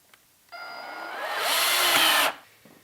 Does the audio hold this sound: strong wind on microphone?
no